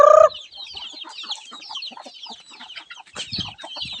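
Palawan native chickens cluck steadily in a farmyard, a hen with her chicks, with soft overlapping calls and chick peeps continuing throughout, plus a brief louder squawk at the start.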